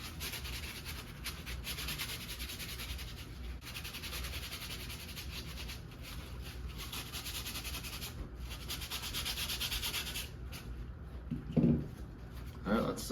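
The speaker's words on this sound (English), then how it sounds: "We're gonna use this more coarse side. Just give the frame a really nice scrub down." Coarse side of a wipe scrubbed over a frame in a hydrographics lab, a steady close rubbing hiss that continues throughout, ending with a couple of brief handling bumps.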